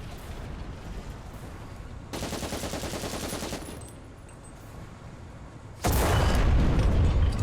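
Tank gunfire in War Thunder comes in loud bursts of rapid automatic fire, first a sustained rattling volley, then a quieter lull, then a heavy blast that rumbles to the end.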